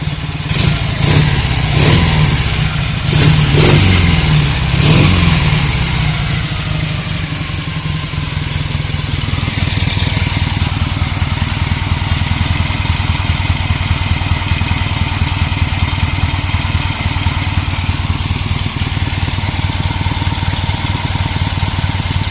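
A motorcycle engine runs loud and steady during carburettor tuning, with a few sharp throttle blips early on before settling into a rough, continuous idle.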